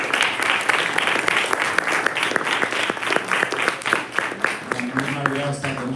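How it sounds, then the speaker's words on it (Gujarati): An audience at a spiritual camp gathering claps in welcome for a guest, sustained applause with distinct hand-claps, and a voice comes in near the end as it fades. "આપણે બધા જ એમને તાળીઓના ગગડાથી વધાવીએ"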